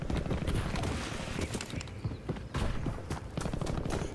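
Gunfire in the video game Warzone: scattered distant bursts and single shots crackle irregularly across a noisy background.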